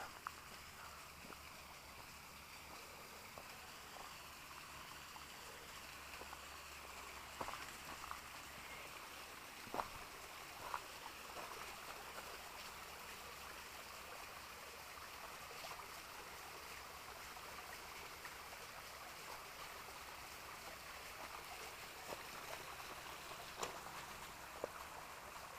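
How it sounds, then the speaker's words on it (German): Steady rushing of a mountain stream or waterfall fills the scene during an alpine hike near the Esterbergalm, a continuous broadband wash with a few faint clicks and knocks on top. "Schaut nach Wasserfall aus."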